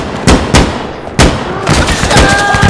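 Gunfire in the video game Insurgency Sandstorm: sharp, loud shots crack in irregular bursts, with close, punchy reports and denser firing toward the end over a busy battle background.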